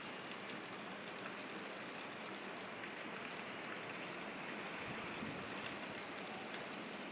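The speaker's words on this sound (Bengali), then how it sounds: "সকাল থেকে প্রচুর বৃষ্টি হচ্ছে।" Heavy morning rain falling steadily as a dense, even hiss with no breaks, heard faintly from a kitchen, with no voices.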